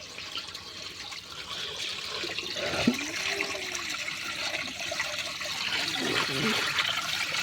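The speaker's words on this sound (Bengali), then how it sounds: "তাই একা একা আলু ধুচ্ছি" Potatoes are washed by hand under running water, giving a soft, steady trickle and splashing. A brief clatter and a few faint voices come through in the background.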